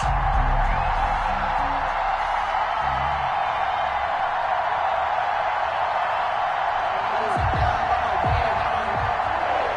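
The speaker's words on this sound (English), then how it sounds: "The enthusiasm of this Cincinnati crowd in full effect a moment ago" Sold-out crowd at a Cincinnati football stadium, a dense, continuous roar of cheering heard from within the stands, with some low rumbling thuds near the end.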